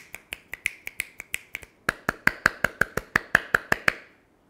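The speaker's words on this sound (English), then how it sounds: "for example, if I start clapping or clicking" Sharp, isolated finger snaps and hand claps ring out one by one in a steady rhythm, about twenty crisp close-up hits with short room decay, starting softer and growing slightly louder before stopping.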